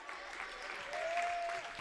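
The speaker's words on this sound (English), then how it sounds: "the claps are starting to pile in as the shot clock's going to get within 10" A varsity boys basketball crowd in a school gym claps in a soft, far-off patter that gradually swells as the shot clock runs down, with a sustained whistle-like tone briefly rising above it.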